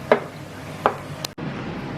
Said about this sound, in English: I want to finish frying my potatoes and then I'll prep the aubergine.